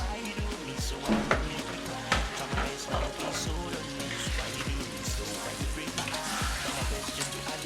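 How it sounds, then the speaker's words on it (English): Meat goes into a pot of red Nigerian efo riro stew, sizzling and bubbling steadily with rhythmic stirring clicks and scrapes close by. "And you add your meat to the pot."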